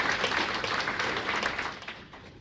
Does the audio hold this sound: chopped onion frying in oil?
no